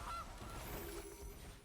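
A goose honk from a card video game, short and nasal near the start, heard over a steady, faint background of game sound.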